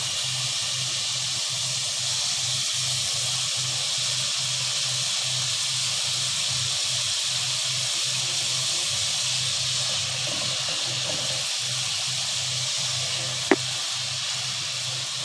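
Hilsa fish cooking in mustard masala gives a steady, even sizzling hiss that runs unbroken and fairly loud, with one brief sharp tick near the end.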